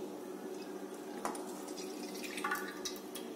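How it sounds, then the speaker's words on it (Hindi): A glass of milk is poured into a pan on a gas stove for caramelized custard bread pudding, giving a faint, steady liquid trickle with light splashes over low background hum. "अब यहाँ पे गैस में ये ग्लास का जो दूध है मैं इसमें डालूंगी"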